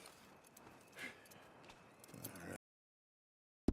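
Horse hooves clip-clop softly in Red Dead Redemption 2, a faint uneven run of steps under game ambience that cuts to silence, followed by a short sharp knock at the very end.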